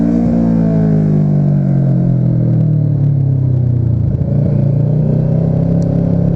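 A Kawasaki Ninja motorcycle pulls hard in first gear on a road in Taiwan, its engine note climbing and then easing back, loud and steady throughout with wind rumble and no speech.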